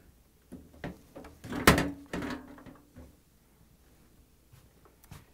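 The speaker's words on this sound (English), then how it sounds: "Now we can tilt it down and lift it up away from the hinges." A Samsung washer door is tilted down and lifted off its hinges, giving a few close, dry clunks and rattles with one louder knock in the middle, then light scraping and quiet handling.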